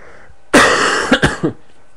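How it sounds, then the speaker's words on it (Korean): Silence, then a burst of coughing close by: one harsh cough followed by two or three shorter coughs in quick succession. "저 기침이 나와서 괴롭네."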